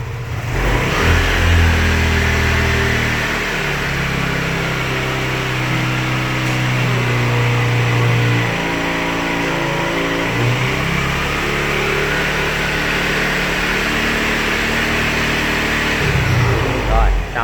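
A Yamaha Nouvo 5 scooter engine revving in a home motorcycle workshop, a loud, close, continuous engine roar that rises and falls with throttle changes, with someone talking over it.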